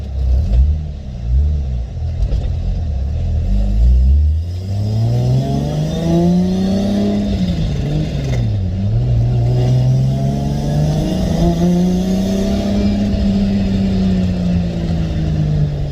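A Lexus GS300 with a 2JZ-GTE engine and R154 gearbox revs up loudly and steadily in first gear, pitch climbing as it accelerates, dipping briefly with a shift, then pulling on at a sustained high drone.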